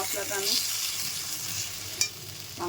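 Meat masala sautéing in a pan, a steady close sizzle with scraping stir strokes and a sharp clank of the spoon near the end, no talk.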